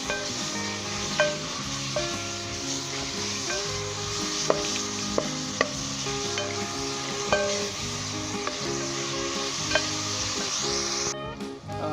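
Frozen beef keema sizzles and fries steadily in a pan while being stirred for a couple of minutes, with a continuous loud hiss broken by occasional scraping clicks of the spoon.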